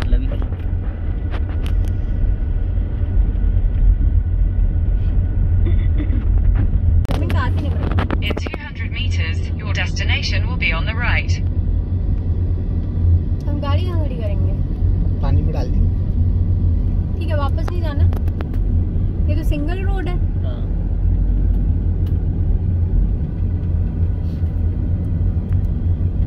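Car descends a winding mountain road with light braking, a steady loud engine and road rumble throughout, with people talking inside over it.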